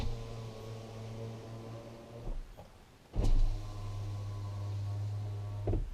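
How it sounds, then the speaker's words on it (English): Electric power windows on a Nissan Leaf are lowered, a steady motor whine running for a couple of seconds, stopping, then starting again and running to the end, close and fairly quiet. "And now I need to buzz down the windows big time."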